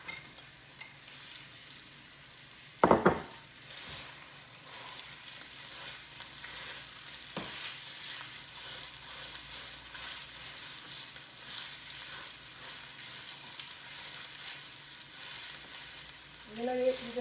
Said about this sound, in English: So I'm gonna add the Italian sausage